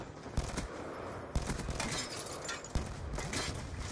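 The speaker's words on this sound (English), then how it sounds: "Shit, we got fucking explosions." Call of Duty: Black Ops 2 combat in which loud, sharp blasts and gunfire crack out at irregular intervals over a constant dense roar of battle noise.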